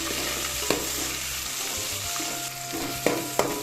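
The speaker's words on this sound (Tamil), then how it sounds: "இதோட 2 பச்சை மிளகாய், 2 தக்காளி போட்டு நல்லா வதக்கணும்" Green chillies and tomatoes sauté in a pan, filling the clip with a loud, dense, continuous sizzle and a few stirring clatters.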